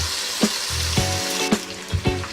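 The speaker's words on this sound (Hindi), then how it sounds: "अब हम चिकन को ब्राउन होने देंगे।" Chicken browns in a hot pan for Hyderabadi chicken biryani, giving a steady loud sizzle broken by regular stirring scrapes about every half second.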